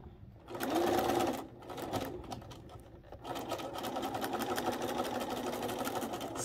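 A sewing machine runs along a quilt seam for a Wedding Ring quilt: a short loud burst, a brief pause, then a longer steady stretch of rapid mechanical stitching, close and clear.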